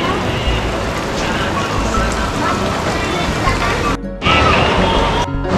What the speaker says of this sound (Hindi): ये सहज धारा के ऊपर गिर रहा है पानी।